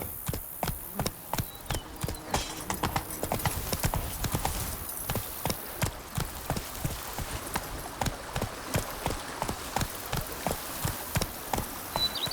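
Horse hooves clip-clop at a steady trotting rhythm in The Witcher 3 video game, evenly spaced and fairly close, with a faint background ambience.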